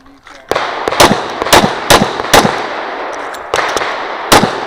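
A Glock 35 pistol fires at an outdoor USPSA shooting range, with about nine loud, sharp, close shots spaced irregularly over several seconds, each cracking out and ringing briefly.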